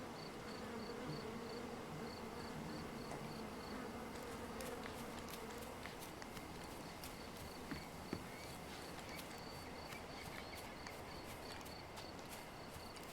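Bees buzz around beehives in a front garden in the Sherlock Holmes Chapter One video game, a faint continuous hum with scattered light clicks and footsteps over it.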